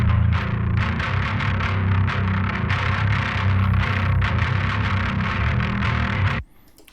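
A harsh, heavily distorted bass guitar tone through a Kemper Profiler amp grinds continuously and loudly, thick and fuzzy, then cuts off abruptly.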